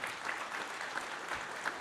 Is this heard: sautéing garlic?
no